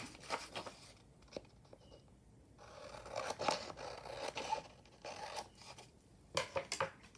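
Scissors snip through paper while a fairy-themed junk journal cover is trimmed, giving close, quiet rasping cuts in short irregular bursts with brief pauses between them and no talk.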